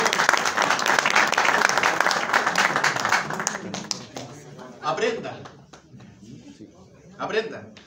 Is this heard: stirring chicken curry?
no